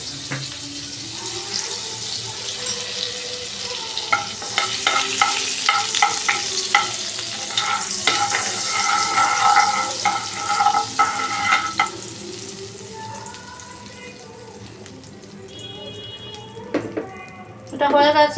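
Butter heats and sizzles in a pan for a coconut-milk vegetable stew while a utensil stirs and scrapes with irregular clicks, with a steady close fizz and some running water.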